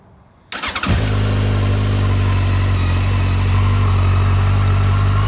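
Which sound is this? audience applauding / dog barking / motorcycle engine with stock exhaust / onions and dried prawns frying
motorcycle engine with stock exhaust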